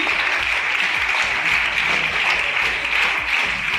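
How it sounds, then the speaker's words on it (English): A school audience at a National Space Day quiz competition gives a steady round of applause, close and even throughout with no talking. "Big round of applause for Sridevi"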